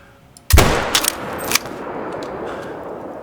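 A single sharp 22-250 rifle shot at a red fox in a Call of the Wild hunting game, loud and close, followed by a couple of fainter metallic bolt clicks and a fading echo.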